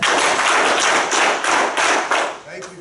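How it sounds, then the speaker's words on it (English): Audience members standing up in a lecture hall and clapping together in a burst of loud, close applause, with the claps rising and falling in a few waves. "If you can hear me, stand up and clap 6 times."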